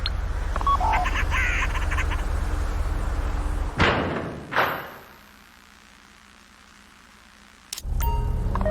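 In the video game GTA Online, a phone hack triggers a bank vault door during a Fleeca heist: electronic dialing tones, then heavy metallic slams and thuds as the door moves, followed by quiet and a final clunk.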